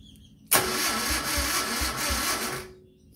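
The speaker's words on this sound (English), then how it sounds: "Okay, motor's turning over." The engine of a 1971 Moto Guzzi Ambassador motorcycle, running on a weak battery, turns over on its starter in a loud, close, rhythmic whirring churn for about two seconds, then stops.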